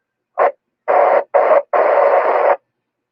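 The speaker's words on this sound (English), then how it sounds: "he's got a good squelch breaking signal to me, but no audio" Strong squelch breaks on a 146.415 FM amateur radio simplex net carrying no audio: four bursts of loud open-carrier hiss, one short and three longer, the last lasting nearly a second, separated by silence.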